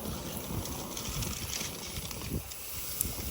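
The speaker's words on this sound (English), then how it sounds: "Sorry if it's hard to hear, but it's very windy." Wind buffets an outdoor microphone during grilling, a steady low rumble of gusts lasting throughout with no talking.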